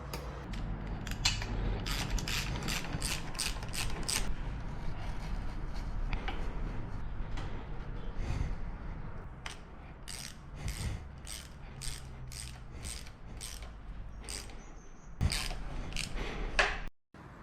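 A hand ratchet tightens parts on a Yamaha outboard motor during an impeller replacement, giving close, sharp clicking in quick repeated bursts separated by short pauses.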